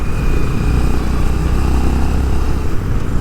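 A Honda H'ness CB350 motorcycle engine drones loud and close while riding, a dense, steady low rumble with no clear pauses.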